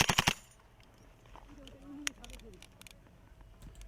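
A quick burst of several loud, close gunshots from a military mock battle between Gurkha troops and U.S. Marines opens the passage, followed by fainter scattered shots and clicks with a voice speaking underneath.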